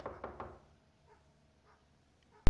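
Knocking on a door in a video game: three firm, evenly spaced raps open the scene, followed by quiet room tone and a sharp loud thump at the very end.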